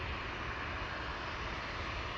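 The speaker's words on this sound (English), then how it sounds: "Something about these engines sound louder than your traditional." Boeing P-8 Poseidon military patrol aircraft at Boeing Field, its jet engines producing a loud, steady, broadband roar that fills the whole moment without any pause or talking.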